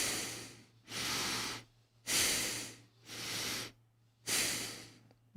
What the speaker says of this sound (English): Listening now to the sound of the breath.